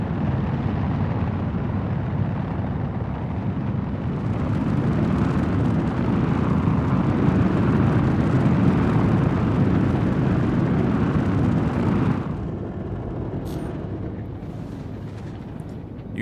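Aurora spaceship in the Star Citizen game flying through atmosphere, a loud continuous roaring engine rush that swells in the middle under boost, then drops to a lower, steadier drone.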